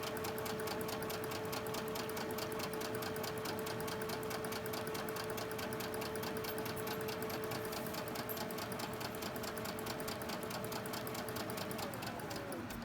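A sewing machine stitches quilt-block fabric in a steady, continuous whir, close and even throughout with no pauses.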